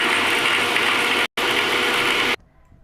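A loud, steady mechanical whirring and grinding from a small mixer grinder motor grinding rasam ingredients without water, cutting off briefly, resuming, then stopping to near silence.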